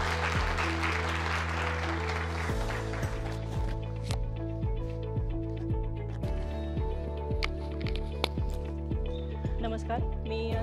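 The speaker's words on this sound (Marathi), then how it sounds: "टाळ्या वाजवा खरं तर एकदा त्यांच्यासाठी." A crowd claps together in a hall, with dense applause in the opening seconds, then a sustained tonal backdrop with scattered claps and taps continuing through the rest.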